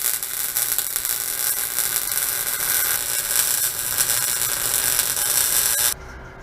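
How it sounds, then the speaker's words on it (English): Welding on a steel frame after tack welds gives a continuous harsh crackling buzz that is loud and steady. It cuts off abruptly near the end, leaving quieter room noise. "we're going to weld the heck out of this girl"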